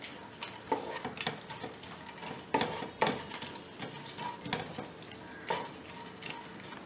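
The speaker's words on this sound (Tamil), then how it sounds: "இதை நான் ஃப்ரை பண்ணிக்கிறேன் இந்த நெய்யில்" Almonds and cashews fry in ghee in a pan for Bombay halwa, with a soft sizzle under frequent sharp taps and scrapes of a metal spoon against the pan, with no voices.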